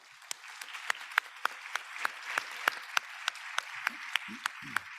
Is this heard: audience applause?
yes